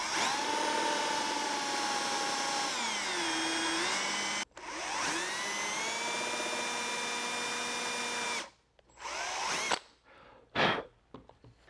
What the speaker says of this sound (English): So I set the depth of my drill